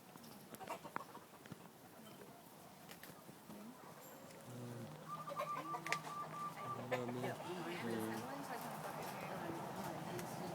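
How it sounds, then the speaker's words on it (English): Chickens cluck in the background, with repeated short calls over a steady outdoor hum and some talking. "there's chickens out there"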